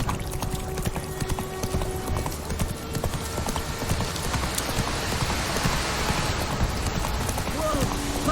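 Hooves of Roach, the horse in The Witcher 3, pound in a steady galloping clip-clop throughout, close and continuous, with rain-like background noise and a brief voice near the end.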